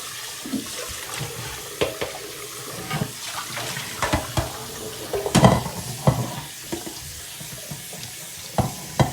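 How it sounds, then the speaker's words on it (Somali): A cooking pot being washed under running water after cooking beans: continuous splashing flow with scattered clanks and scrubbing knocks of the pot, close and fairly loud throughout. "haddana digsigii aan kiliin garaysanayaa."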